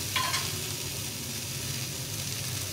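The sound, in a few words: water poured into a hot pan of greens seeds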